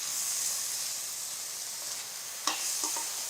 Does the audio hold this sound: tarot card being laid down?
no